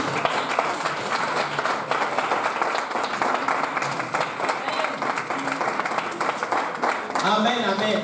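Church congregation clapping in sustained applause to acclaim the Lord, a steady, lively crowd of hands filling the room while voices carry over the top.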